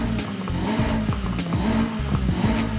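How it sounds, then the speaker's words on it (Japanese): Turbocharged Nissan Silvia K's S14 engine in Forza Horizon 5, tuned for maximum power, with a loud, steady engine note and intake sound rising and falling through repeated revs, with no talking. "吸気音どう変わるか。"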